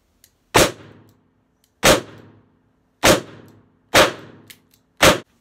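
Five loud, sharp gunshots from a Colt King Cobra .357 Magnum revolver, fired one at a time about a second apart, each with a short ringing decay and no talk between them.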